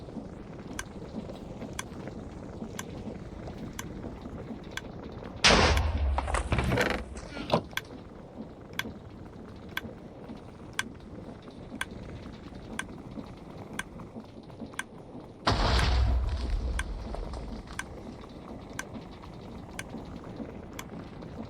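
Modded Minecraft (Create Mekanism) explosions burst twice, loud and close, over steady mechanical clicking and ticking from gears and machinery, with no speech.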